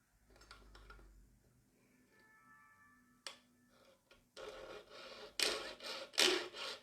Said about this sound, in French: Je vais scier ce qui dépasse.